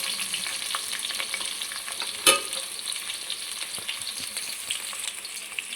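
Neatly sliced onions frying in oil with star anise, pepper and cardamom for a mutton fry, a constant close sizzle with stirring scrapes and one sharp clink of the utensil.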